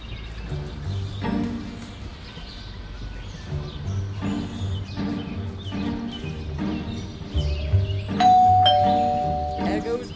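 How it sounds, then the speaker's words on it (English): A doorbell chimes inside the Scary Teacher 3D video game, its ringing tone rising clearly near the end over game music and background sounds. "that stupid bell again"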